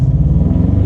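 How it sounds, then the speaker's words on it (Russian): An older Chery Tiggo car engine in S mode gives a loud, deep, steady rumble as the gas pedal is pressed, close up and with no one talking. "Вот сейчас я нажму газ."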